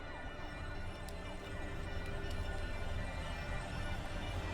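A distant emergency siren from the TV drama Breaking Bad wails steadily at low volume under a faint rumble of background noise.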